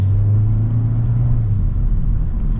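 A 2024 Kia K5 GT-Line, front-wheel drive, accelerating from inside the cabin: a steady low engine hum that rises slightly in pitch, then eases after about a second and a half, with road rumble and no talking.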